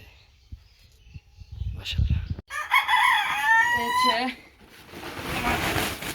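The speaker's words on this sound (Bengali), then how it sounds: "আমার এই ফার্মে মুরগিগুলা ছেড়ে দিচ্ছি" Chickens let loose on a farm with grass and banana plants, a rooster's loud crow near the middle with clucking and rustling around it, a person speaking at moments.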